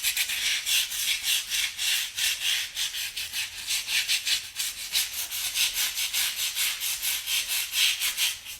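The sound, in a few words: scrubbing clean with cleaning product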